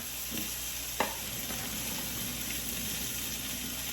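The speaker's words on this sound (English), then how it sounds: "We're going to drain those potatoes right here." Boiled potatoes are drained into a colander in a sink, giving a steady soft hiss of pouring water with a couple of faint clunks, quiet and continuous with no voices.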